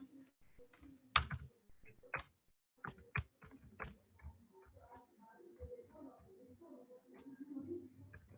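Typing on a computer keyboard, heard close as bursts of irregular clicky keystrokes separated by short pauses and then a denser run of taps.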